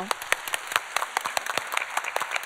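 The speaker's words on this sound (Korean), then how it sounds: "이 가정을 위해서 축복의 박수 한번 부탁드릴게요" Church congregation applauding to bless a family, a steady patter of many hands clapping at moderate distance for a couple of seconds, with individual sharp claps standing out.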